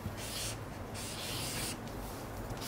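Felt-tip magic marker strokes scraping across a wall surface while drawing a graffiti tag, a continuous dry rubbing hiss in a few long passes, close and steady, with no talking.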